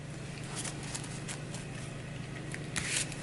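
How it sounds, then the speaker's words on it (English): A deck of cards for the Path to Carcosa card game gets a quick shuffle and cut: soft, papery riffling bursts that flare briefly over a steady low background hum, with no one talking. "Give this a quick shuffle."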